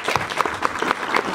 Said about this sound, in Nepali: जोरदार ताली लेखक